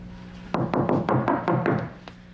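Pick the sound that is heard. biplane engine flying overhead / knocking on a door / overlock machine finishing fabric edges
knocking on a door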